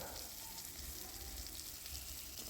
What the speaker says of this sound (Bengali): টমেটো দিয়ে আমি ভালো করে ভেজে নেব